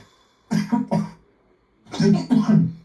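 Two clusters of rough, close coughs, first a pair then a triple, loud and separated by a short silence.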